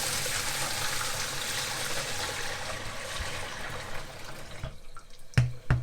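Dirty soaking water from microfibre towels left to soak overnight, poured or sloshing steadily for several seconds with a broad, close wash of sound, then tapering into a few distinct splashes and drips near the end.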